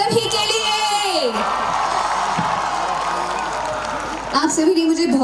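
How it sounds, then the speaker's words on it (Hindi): A loud crowd at a live music performance cheers and whoops over dense applause, with music and a sung note carrying through at the start and returning near the end, full and sustained throughout. "एक बार जोरदार तालियां आप सभी के लिए।"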